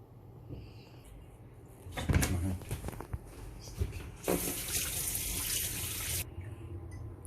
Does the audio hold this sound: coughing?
no